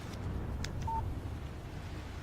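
A phone text message alert in the video game Alan Wake gives a single brief, soft electronic beep over a low, steady ambient hum.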